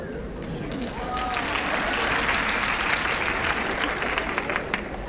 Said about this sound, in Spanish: No aplaudáis tan rápido